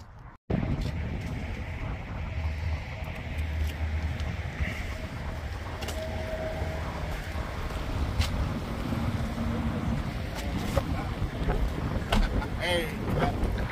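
A fishing boat travels out on Lake Erie, giving a steady broadband engine and water rumble with wind buffeting the microphone throughout, and faint voices underneath.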